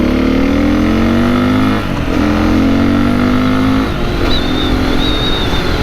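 A 2022 Beta 430 RR-S dirt bike revs hard while being ridden, its loud engine climbing in pitch through the gears with brief dips between shifts, close and continuous.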